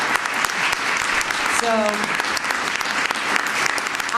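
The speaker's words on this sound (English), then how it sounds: "So could we give a round of applause for our board?" An audience at a school board meeting applauds the board with a steady wash of clapping throughout, and a speaker's voice briefly cuts in over it.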